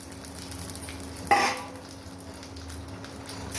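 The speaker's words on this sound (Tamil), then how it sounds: "இந்த நெய் கொஞ்சோண்டு ஊற்றிருக்கோம் பார்த்தீங்களா இதில் முந்திரி பருப்பு கிஸ்மிஸ் பழம் எல்லாத்தையும் போட்டு பொறிச்சு" Soft sizzling and stirring as cashews and raisins fry in ghee in a pan, with a brief louder scrape or clatter partway through, steady low frying hiss throughout.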